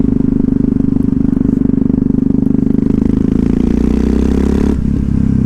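Rough, thumping idle of a 2006 Yamaha MT-03 with a 660cc single-cylinder engine, loud and close, with a rapid clattering pulse that holds steady before a brief dip near the end.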